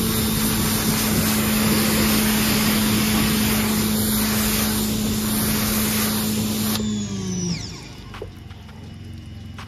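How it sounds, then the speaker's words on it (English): Pressure washer spraying water onto a car panel to rinse off a touchless ceramic rinse and seal, a loud steady hiss and motor drone that runs continuously, then cuts out and winds down near the end. "Spray it off."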